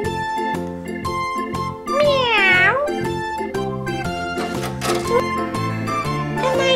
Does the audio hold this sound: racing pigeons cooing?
no